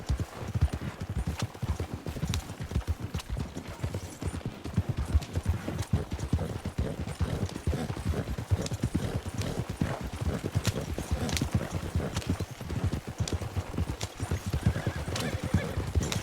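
In the Red Dead Redemption 2 video game, a horse pulling a cart along a winter trail during an endurance race trots with steady, rhythmic clip-clop hoofbeats throughout, close and clear, with occasional neighs and a faint voice in the background.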